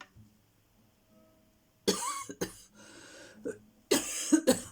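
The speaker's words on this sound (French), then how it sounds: "En plus, je tousse, c'est la totale." A few harsh coughs in quick bursts, close to the microphone, separated by quiet pauses and some throat clearing.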